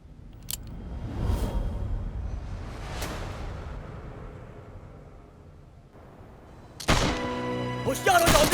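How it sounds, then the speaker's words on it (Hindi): Gunshot sound effects in a Hindi action web series: a few sharp, loud bangs with echoing tails, spaced apart across the scene, ending in a dense burst of clattering impacts. "होशियार हो जाओ, गोली चलने की आवाज आई है।"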